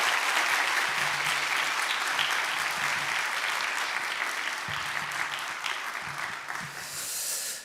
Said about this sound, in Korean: 우리 박수로 우리 환영하시겠습니다